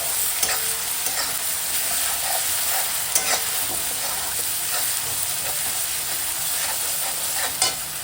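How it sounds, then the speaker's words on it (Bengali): Ginger, garlic and onion paste fries with bay leaf and dried chilli for a soya chunks curry, giving a loud, continuous sizzle with scraping stirs throughout. "দিচ্ছি আদা রসুন পেঁয়াজের পেস্ট। এবার নেড়ে চেড়ে ভেজে নেব মশলাটা।"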